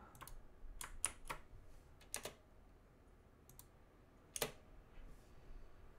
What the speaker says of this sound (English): you can hear my loud mechanical keyboard typing